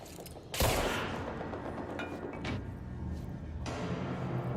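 Shotgun blasts in the video game Control: a sharp loud burst followed by a few lighter impacts and a second crack near the end, set against a steady background rumble.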